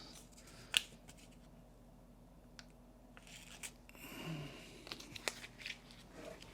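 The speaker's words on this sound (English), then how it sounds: "And then I am taping it in place." Quiet, close rips and crinkles of adhesive tape being torn and pressed onto a shoulder to hold a separated collarbone at the sternoclavicular joint, with soft scattered taps in a quiet room.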